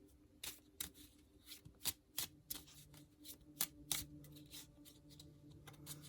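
Tarot cards are shuffled close up in soft, irregular papery riffles and flicks that repeat over several seconds, quiet with no talking.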